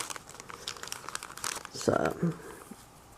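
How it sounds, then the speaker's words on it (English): A glassine envelope is handled close up, its papery crinkling and rustling coming in short bursts that grow louder toward the middle, with a voice speaking quietly underneath. "Here is an envelope, a glassine envelope"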